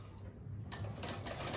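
A sewing machine runs a straight stitch across the mouth of a pocket on palazzo trousers. It starts after a short quiet moment and continues as a soft, close, steady whir for about a second.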